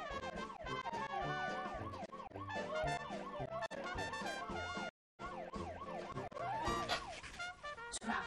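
An ambulance siren wails continuously in repeating rising and falling sweeps, fairly faint and distant, with one brief dropout before the wailing resumes.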